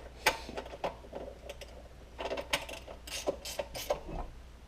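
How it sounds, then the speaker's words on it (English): A 10mm ratcheting combination wrench works its box-end ratchet during a Briggs and Stratton gas tank install, giving close, quick bursts of clicking with short pauses between strokes and no talking. "I'm going to wind up using a 10mm ratcheting combo wrench"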